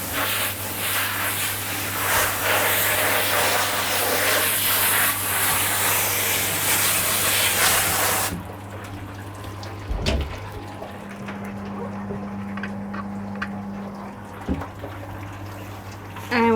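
Water spray rinsing the coat of Odin, a Bernese Mountain dog, at a dog wash: a loud, steady broadband hiss for about eight seconds, then it cuts off, leaving quieter room sounds, a low hum and a few knocks.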